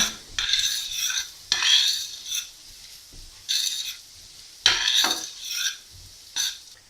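Oat flakes toasting in butter over low heat are pushed around the pan in distinct bursts of dry scraping and rustling, each lasting about a second with short quiet gaps, close and fairly loud, with no speech.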